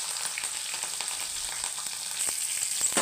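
Okra frying in a pan gives a steady, close sizzle that holds at an even level throughout, with no talk over it.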